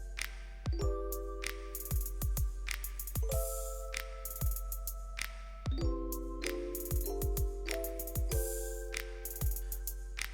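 A tool is turned by hand to push out the bushing sleeve on a Vespa PX 200 scooter engine. It gives sharp metallic clicks and ringing clinks in uneven bursts, close and moderately loud.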